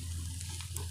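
Grated raw plantain sautéing with onions in a hot pan, giving a steady close sizzle and frying hiss with faint stirring scrapes, continuous and without voices.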